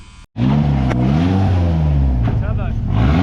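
Turbocharged BMW E36 with an M44 four-cylinder engine and an unfinished exhaust after the V-band, revved hard after a brief dropout, with loud, close engine tones rising and falling across several throttle blips.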